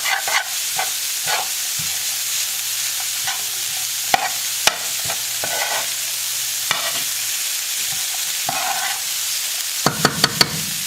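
Food cooks down in oil in a frying pan on about medium heat for a manicotti pasta dish, giving a steady close sizzle with occasional stirring scrapes and clinks.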